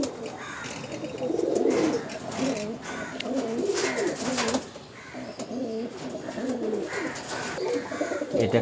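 Many pigeons coo in overlapping, repeated low rolling calls throughout a busy pigeon market at Uluberia, with a steady crowd-like hum beneath and a few faint chirps.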